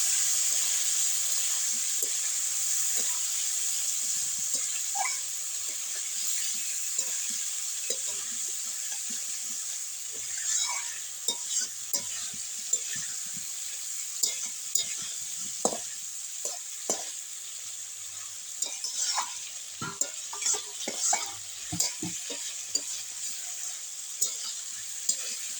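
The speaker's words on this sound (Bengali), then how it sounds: "আলু আর বেগুন, একটু ভালোভাবে কষে নেব।" Fried potatoes and eggplant are sautéed in a pan for a fish curry, a soft steady sizzle broken by scattered spatula scrapes and clicks that grow more frequent over time.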